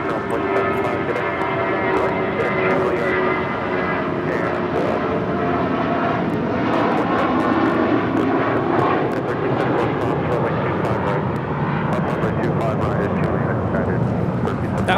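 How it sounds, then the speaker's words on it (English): Volaris Airbus A320 jet departing from LAX, a loud, steady roar of engines that holds constant throughout, with a person talking over it. "That was Volaris 923 taking off to Zacatecas on an A320."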